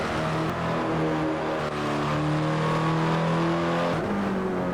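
Hyundai Elantra N engine droning steadily at close range from inside the car as it is driven hard through big sweeping turns, revs holding and swelling, then dipping sharply near the end before climbing again.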